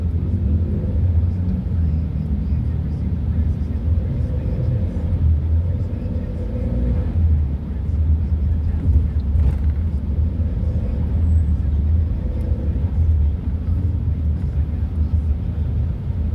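Heavy road traffic on C5 road from Pasig toward Katipunan, Quezon City, with a continuous low rumble of engines and passing cars heard from inside a vehicle, while someone talks over it.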